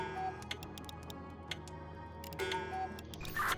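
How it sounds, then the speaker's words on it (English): Steady ticking of a cuckoo clock pendulum in the puzzle game We Were Here Together, faint and even-paced, with a few brighter clicks and a short tonal chime near the end. "My middle one changes the frequency of the pendulum, and my bottom one changes like the tone of the cuckoo clock"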